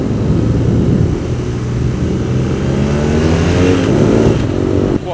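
Several BMW R nineT Scrambler motorcycles ride through London, giving a loud, steady engine drone mixed with wind and traffic noise, with no talking.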